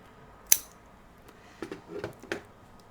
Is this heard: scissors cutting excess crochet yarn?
yes